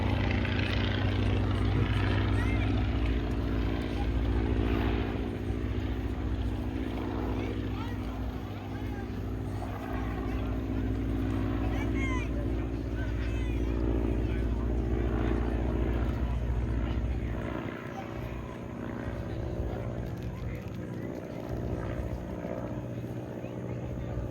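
Boeing-Stearman PT-17 biplane in flight at a historic aviation weekend, its radial piston engine droning steadily and loudly throughout, easing slightly near the end, with voices talking faintly underneath.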